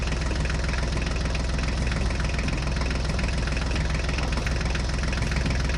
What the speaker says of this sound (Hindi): हम अपने फोर्ड ट्रैक्टर और जॉन डियर को लेकर जा रही हैं